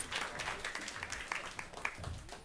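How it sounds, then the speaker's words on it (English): A small panel audience claps for an arriving guest, a faint scattered patter of applause lasting a couple of seconds. "Round of applause."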